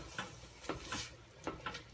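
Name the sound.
stirring and scraping the bottom of a paella pan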